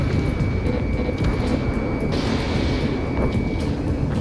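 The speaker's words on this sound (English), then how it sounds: "Unknown aircraft approaching!" A combat aircraft closing in during an Ace Combat 7: Skies Unknown mission, heard as a continuous low engine roar and rushing air that stays loud and even for the whole few seconds, with no voices.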